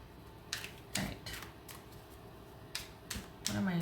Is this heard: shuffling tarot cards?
yes